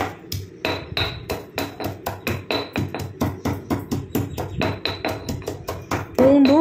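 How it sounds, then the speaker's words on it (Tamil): Whole garlic cloves pounded with a pestle in a mortar for a capsicum hair-dye oil, giving a steady run of roughly twenty close, even thuds that ends in a brief louder clatter. "பூண்டை வந்து அப்படியே முழுசாகவே போட்டு நல்லா இடிச்சிட்டோம்னா போதும்."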